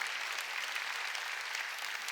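A church congregation claps in unison, a thick, steady roar of applause that stays level from start to finish, with no voices rising above it.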